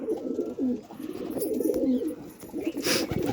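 Pigeons in a breeding loft, including red-necked and blue birds, give a steady run of close, low throaty coos that overlap continuously with no talking.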